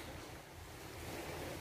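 Sea waves wash onto the white-sand shore of Licoson Beach in Mobo, Masbate, a soft, steady surf roar mixed with wind, faint and brief.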